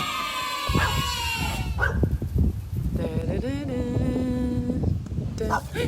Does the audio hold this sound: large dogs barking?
yes